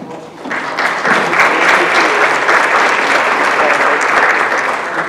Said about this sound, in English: To really give a special round of applause to Ms. Marks.